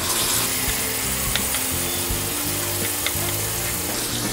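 Green paste of basil, onion and garlic fries in a pan for coconut chicken curry, making a loud, steady, dense sizzle throughout with occasional faint clicks of stirring.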